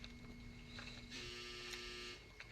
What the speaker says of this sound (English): That's a dryer.